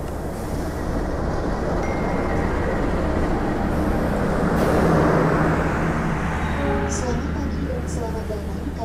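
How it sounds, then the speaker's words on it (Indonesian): The Argo Parahyangan train from Bandung to Gambir pulls into track 1 at the station with a steady, broad rumble that swells near the middle and eases off, while people talk nearby. "Yang akan masuk di jalur 1 itu adalah rangkaian kereta api Argo Parahyangan dari Bandung tujuan ke Gambir ya."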